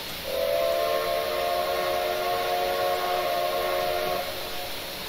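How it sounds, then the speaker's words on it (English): A steam whistle on a Machine Rail EFCB 0-8-8-0 steam locomotive in Train Simulator Classic gives one long, steady, multi-toned blast of about four seconds, loud and clear over a soft background hiss, then cuts off. "I adore that whistle."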